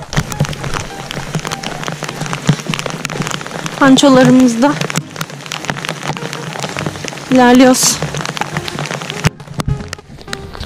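Heavy rain pours steadily during an outdoor walk near a village flower field in Bolu, a loud, close hiss of drops on surfaces with people talking and calling out over it.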